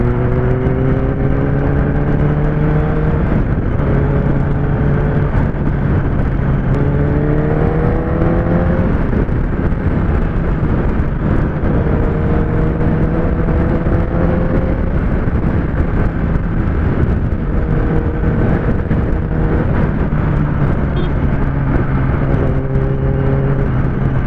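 A Kawasaki ZX10R motorcycle rides on the highway, its engine note climbing through repeated rising gear pulls and shifts over steady wind rush, loud and continuous throughout.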